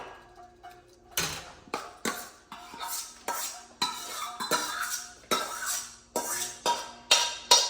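A spoon scraping and clanking against a pan while mashed eggplant bharta is mixed with peas, a steady series of sharp metallic strokes repeating about twice a second, close and distinct, no voices.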